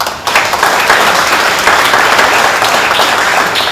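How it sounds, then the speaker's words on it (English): Loud, sustained applause from an audience at a ribbon cutting for the Missouri City METRO Community Connector service, dense clapping filling the whole stretch without a break. "I think that deserves a round of applause."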